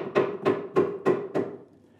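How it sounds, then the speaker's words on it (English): Five evenly spaced hammer taps nudge a wooden workbench drawer into position, each a sharp close knock with a short woody ring, fading slightly toward the end. "I'm going to nudge it with the hammer to get the overhang I want"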